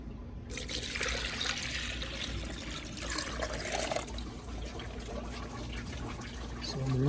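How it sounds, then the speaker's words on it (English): Water pours steadily into a Toyota Corolla cooling system during a coolant flush, a continuous close trickling and splashing that holds for several seconds. "Go ahead and pour some water there"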